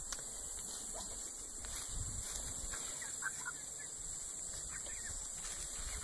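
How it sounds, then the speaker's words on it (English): Young Buff Orpington pullets cluck and chirp softly in a backyard flock, scattered brief calls over a steady background hum, fairly faint and distant. "They're sounding more like chickens."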